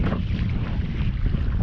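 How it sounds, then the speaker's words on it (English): Strong wind buffets a small boat while fishing on the Swan River, a loud, constant roaring rumble pressing on the microphone, with no voices. "that wind only seems to be getting stronger"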